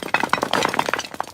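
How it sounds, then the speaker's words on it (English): A statue is smashed in Lebanon, producing a rapid jumble of cracks, chinks and clattering fragments, loud and close throughout. "smashing a statue here in Lebanon"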